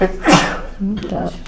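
A single sharp sneeze bursts out near the start in a quiet meeting room, followed by a person starting to speak.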